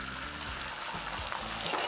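Eggs hitting hot oil in a carbon steel wok, a loud continuous close sizzle with crackling spits over a low burner rumble, no speech.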